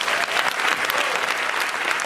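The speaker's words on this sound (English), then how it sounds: "I need y'all to clap it up, y'all." Loud, full applause from the crowd at the Apollo Theater as a singer is welcomed for a debut, a thick continuous clatter of many hands.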